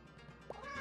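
Short cat meow from the video game 100 Asian Cats, a single brief mew rising near the middle of the clip over faint game background sound.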